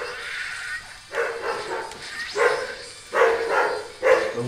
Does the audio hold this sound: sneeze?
no